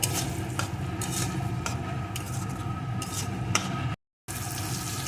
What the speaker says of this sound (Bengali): এখন মশলা দিয়ে এই সমস্ত কিছুকে ভালো করে কষিয়ে নেব